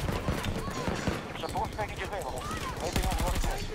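Rapid gunfire crackles in a Battlefield video game, with shotgun blasts among dense, overlapping bursts of shots at close range, while players talk excitedly over the combat.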